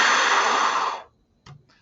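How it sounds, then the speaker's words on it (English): Raw breathy air rushes across the mouth of a bottle for about a second, a broad steady hiss that cuts off abruptly, followed by a brief faint puff of air. "I'm going to take this raw noise that is the sound of air blowing over the lid, the mouth of the bottle"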